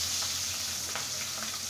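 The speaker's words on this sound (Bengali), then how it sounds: "এখন আমি খুব সুন্দর করে মাছগুলাকে ফ্রাই করে নেব" Pabda fish frying in hot oil in a pan, a soft, steady sizzle with a few faint pops, fairly quiet and close, no talking.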